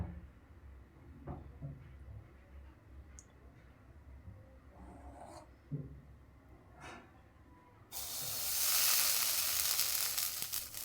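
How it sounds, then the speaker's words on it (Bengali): Chitoi pitha batter is poured into a hot, oiled iron wok, bursting into a sudden loud, steady sizzle after a few quiet kitchen knocks and clinks. "এখন সুন্দর করে ব্যাটারটা এর মধ্যে দিয়ে দেব"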